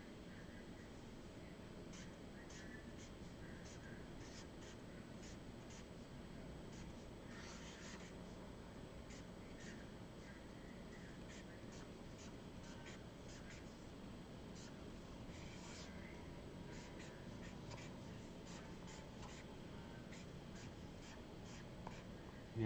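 A pen scratches across paper on a Rasa easel, a quiet stream of short, repeated strokes that continues for over twenty seconds with small pauses between bursts.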